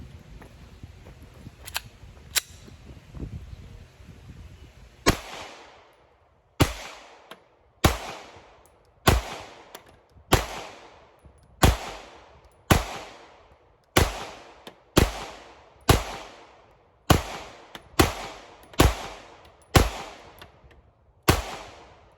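A Walther PPQ compact pistol fires about fourteen sharp, loud single shots, each followed by a short ringing decay. The shots come at a steady, measured pace after a few quieter clicks and handling sounds at the start.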